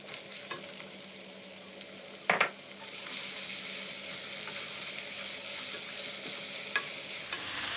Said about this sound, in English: Now we're going to add the onions.